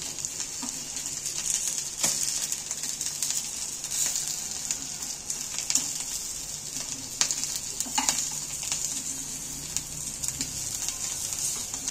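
Potatoes sizzle steadily in a frying pan, a constant hiss with occasional crackles and pops, close and fairly quiet, with no talking.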